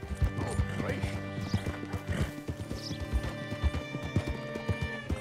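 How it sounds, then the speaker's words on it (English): Horse hooves clip-clop steadily in the Red Dead Redemption 2 game world, arriving in the town of Rhodes, with a whinny rising among the steps and a voice talking over much of it. "Hitch your horse up here."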